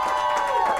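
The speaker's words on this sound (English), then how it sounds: "Clap if you're having a good time." Studio audience clapping and cheering in a small live show setting, a dense burst of applause with whoops, close and loud throughout the short moment.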